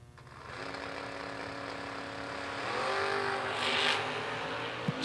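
Drag race launch of Thomas Wagner's Chevy II against Tim Sloan's Sloan Brothers Monza: loud, steady engine roar that climbs in pitch as the cars accelerate away, continuous for about five seconds with no talk.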